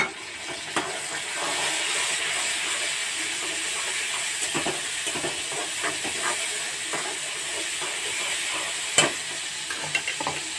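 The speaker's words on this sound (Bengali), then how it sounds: "আমি এখন রসুন বাটাটাও দিয়ে দিচ্ছি।" Garlic paste hits hot oil in a pan for a shrimp and taro stolon curry, producing a steady, close hiss and sizzle with occasional crackles and light stirring.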